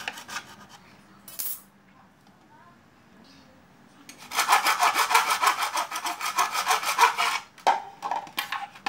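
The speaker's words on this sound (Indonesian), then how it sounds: "pakai gergaji besi aja." A hacksaw cuts into a plastic headlight reflector from a New Jupiter MX motorcycle, rapid rasping back-and-forth strokes ringing out close and loud for several seconds after a brief scrape and quiet handling.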